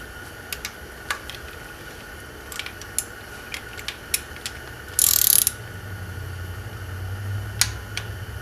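A torque wrench tightens the cam bolts on a Subaru EJ22 engine. Close, sharp ratcheting clicks come at an irregular pace, with one brief burst of harsh mechanical noise partway through.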